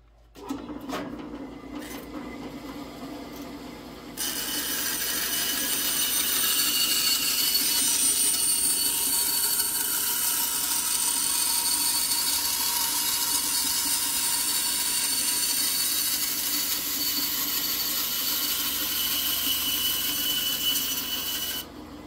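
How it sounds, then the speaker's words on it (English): A bandsaw cuts through a horn being shaped into a powder horn: a few faint knocks, then a loud, steady whining rasp sets in and holds without a break to the end. "I'm going to take over the bandsaw and cut that off"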